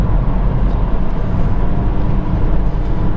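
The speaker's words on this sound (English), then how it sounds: "I'll change down through the box to 3rd and raise the revs" A car engine with a manual gearbox roars steadily from inside the vehicle as the driver changes down from fourth to third at about 50 mph and raises the revs, giving a dense, even rumble with road noise and no speech.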